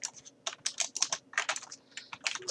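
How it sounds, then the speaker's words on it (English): Keys clatter on a computer keyboard as text is entered in a map-editing program: quick irregular bursts of close, crisp taps separated by short pauses. "then I'm going to type"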